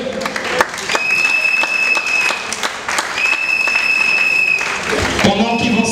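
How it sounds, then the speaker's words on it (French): Applause and ovation from a celebration crowd during a gift presentation, steady loud clapping filling the room, with sustained whistle-like tones and voices carrying over the clapping. "sous vos ovations, vos applaudissements"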